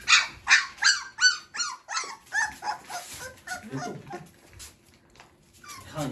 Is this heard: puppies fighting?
yes